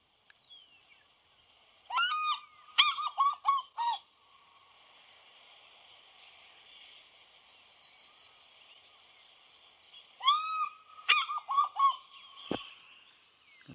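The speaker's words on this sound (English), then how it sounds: "For many, many people, the sound of the fish eagle is the best possible call." A recorded African fish eagle call plays from a speaker on a morning safari drive. Two bursts of ringing, yelping notes are separated by a long quiet gap with faint background hiss.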